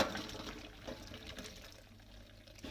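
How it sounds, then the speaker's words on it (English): Potato cooking water tipped out into a colander in a kitchen sink, a continuous gushing pour that starts strong and gradually eases into quieter draining, close and fairly soft. "So over here in the kitchen sink, we're going to tip out our potato water"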